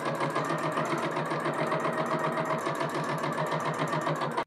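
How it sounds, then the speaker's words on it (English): A sewing machine stitches folded fabric straps in a fast, even mechanical chatter, close and steady for several seconds before stopping abruptly. "Okay, now let's sew our straps."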